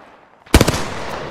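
A short, loud burst of rapid automatic gunfire in Apex Legends, four or five sharp shots fired close together and followed by a brief ringing tail.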